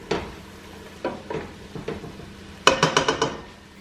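Onions and carrots cooking in a pot on a stovetop for red lentil soup, a soft sizzle under scattered utensil scrapes and a quick run of metallic clinks near the end.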